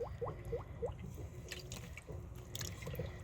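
Water drips and splashes in an outdoor utility sink where fabric is soaking, a few quick rising plinks at the start followed by soft squishy sloshing and small splashes, faint and close.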